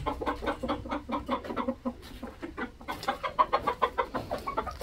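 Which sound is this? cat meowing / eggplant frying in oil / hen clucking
hen clucking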